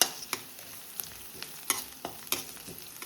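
A green chili sizzles in a pan with chopped onion for a Goan clam masala curry, a soft continuous frying hiss broken by sharp scraping stirs at irregular intervals, close and fairly quiet, with no talking.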